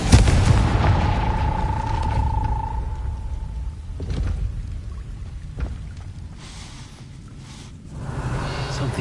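A Confringo blasting spell explodes in the video game Hogwarts Legacy, opening with a deep booming blast and a ringing tone that fades into low rumbling, with a few softer thuds after.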